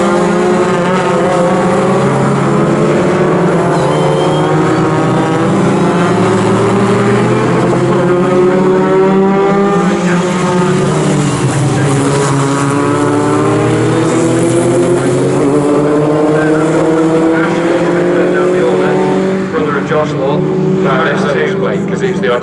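Sports 2000 race cars racing at Snetterton in an SRCC championship race, loud engines rising and falling as cars pass and accelerate, with a commentator talking over the sustained roar throughout.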